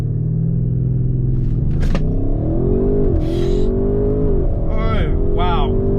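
An Audi RS7 in RS mode accelerates hard, its engine a loud, deep rumble that climbs and drops through gear changes. Excited voices break in over the roar.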